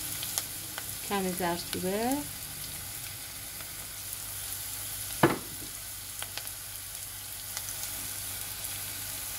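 Chicken sautéing in a pan for Persian fesenjan, a steady faint sizzle throughout, with a brief stretch of speech early on and a single sharp clank of a utensil midway.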